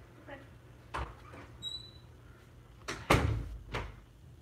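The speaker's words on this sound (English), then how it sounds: "Close my door." A bedroom door swung shut with a few soft clunks and one firmer thud, close by, amid light room noise and scattered small knocks.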